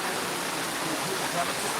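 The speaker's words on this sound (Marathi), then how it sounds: "हा पाण्याचा लोट किती मोठा आहे" A large torrent of rainwater rushes past after a cloudburst in Pirachi Kuroli, a steady broad roar of flowing water, close and continuous.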